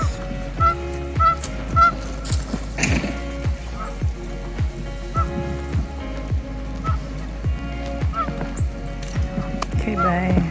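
Ducks swimming on the water give repeated honking calls in an irregular series under a snowstorm, with steady background noise and close, moderately loud calls.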